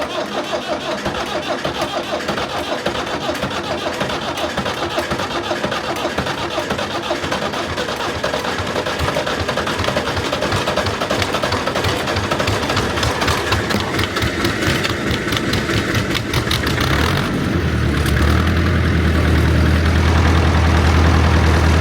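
Old Massey 50 digger engine on a cold start, cranking and rattling with a rapid rhythmic chug, then catching into a louder steady idle near the end.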